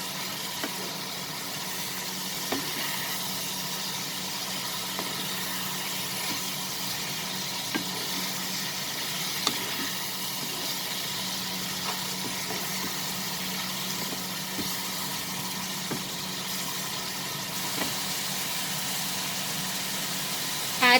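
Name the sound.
chicken and mixed vegetables sauteing in a pan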